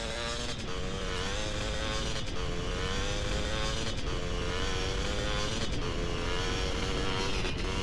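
A motorcycle engine in the video game GTA San Andreas drones steadily and loudly throughout, with a constant harmonic hum and small surges in revs, with no talk.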